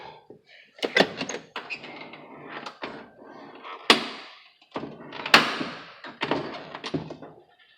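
A Jeep door opening makes clunks and creaking, grinding scrapes in several irregular bursts, close and fairly loud, with sharp knocks mixed in.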